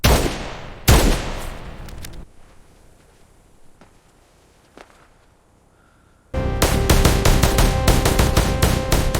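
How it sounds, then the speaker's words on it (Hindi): Bursts of gunfire, a loud shot early, then a quieter stretch with scattered faint pops, before a sustained loud volley of rapid shots. "रुक रुक कर फायर करो"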